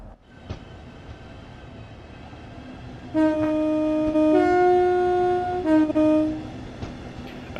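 An Avanti train pulls out of Crewe on the West Coast Main Line in Train Sim World 2: a low rumble builds, then a sustained two-tone horn sounds loudly for about three seconds before fading back to running noise.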